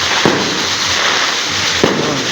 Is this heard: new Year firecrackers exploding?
yes